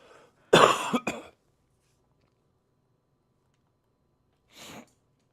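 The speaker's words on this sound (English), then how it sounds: "Trying to clear my throat." A sharp, close throat clearing with a couple of rough bursts, then quiet, and one shorter throat clear a few seconds later.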